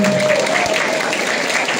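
Audience applause at a rainy founders night gathering, a steady wash of clapping filling the whole moment with a voice faintly audible underneath.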